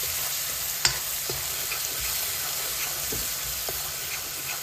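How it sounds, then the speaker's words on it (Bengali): Chicken with banana flower frying in a pan while being stirred, a steady close sizzle with a few sharp scrapes and clicks from the stirring. "এতিয়া এইখিনি কিছু সময় ভাজি ল'ম।"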